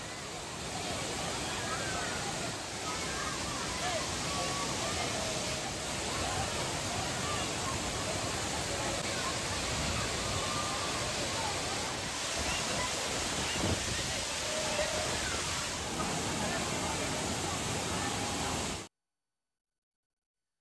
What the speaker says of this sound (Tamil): இதனால் திருப்பரப்பு அருவியிலும் தண்ணீர் கொட்டுகிறது.